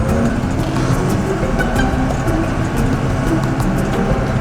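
A vehicle engine runs steadily as it drives out through a farm gate onto a road. The rumble is close, loud and continuous, with no talk.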